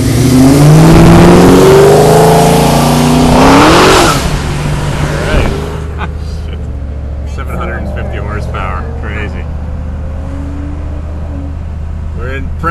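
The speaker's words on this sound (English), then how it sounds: "he's got 750 Hemi supercharged horsepower" A supercharged 750-horsepower Hemi car revs hard and accelerates away, a loud, rising engine roar for the first five seconds that then fades to a distant rumble.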